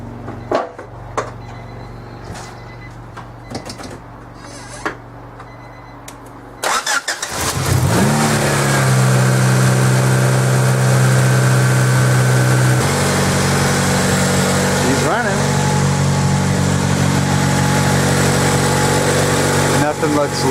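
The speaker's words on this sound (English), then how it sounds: "let's start it up and see if it explodes." A Honda Prelude, just fitted with a new alternator, is cranked and fires up after a few seconds of quiet clicks and handling, then settles into a loud, steady idle close by.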